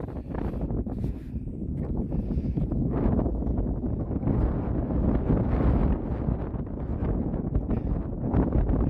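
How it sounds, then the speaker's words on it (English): Strong wind buffets the microphone outdoors on a bike ride, a steady low roar with gusty surges throughout and no voices. "Oh, it's so windy."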